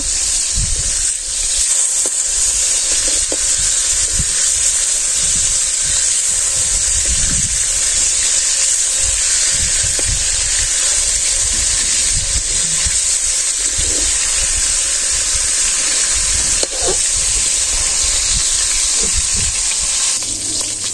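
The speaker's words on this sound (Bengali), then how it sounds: "এখন একটা একটা মাছ উল্টে দিব।" Pieces of fish frying in oil and turned one by one, producing a continuous loud hiss of sizzling oil with occasional soft clunks from the flipping.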